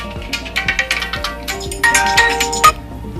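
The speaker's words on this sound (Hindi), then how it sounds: "फोन बज रहा था" A phone ringtone plays loud and close, a short run of bright melodic electronic notes in a quick rhythmic pattern that changes to a brighter sustained phrase near the end, with no talking over it.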